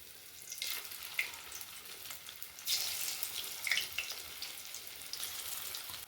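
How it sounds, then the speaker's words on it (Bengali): Malabar spinach leaf pakora fritters frying in hot oil, a steady sizzle of bubbling oil with brief louder bursts as batter goes in, close by with no talk. "এবার এগুলোও ভেজে নেবো"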